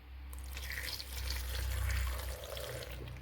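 Milk poured into a blender for a sweet potato shake makes a close, steady liquid gurgle and splash lasting a few seconds, rising slightly in the middle.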